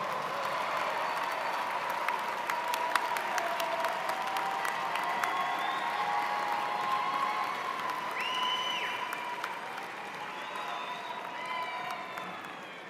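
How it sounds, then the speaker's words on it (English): Graduates at a graduate programs ceremony applaud their family and friends, producing a steady, fairly distant wash of clapping from a large crowd with scattered whistles and cheers, gradually tapering toward the end. "stand up and give them a round of applause because they're part of your success story as well"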